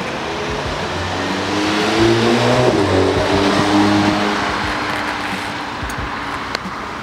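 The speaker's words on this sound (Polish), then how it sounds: "jest dźwięk wydechu" Audi TTS Coupe 2.0 TFSI (310 hp) exhaust roaring as the car accelerates, a loud, rising engine note with gear-change steps, steady and close with no talk over it.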